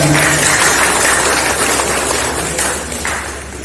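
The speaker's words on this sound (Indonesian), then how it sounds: "Boleh tepuk tangan juga." Audience applause at a village disaster-management training event in Ciomas, a dense steady wash of clapping from a crowd that holds loud and full before gradually thinning and fading toward the end.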